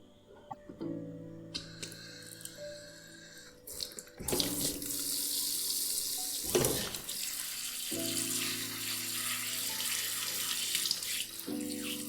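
Crab being washed under a running tap at a kitchen sink, water splashing and gurgling in steady bursts, stopping and starting several times, close and fairly loud with no talking.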